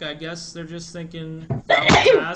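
One sharp sneeze bursts out near the end, following a man's calm speech and standing out clearly louder than his voice.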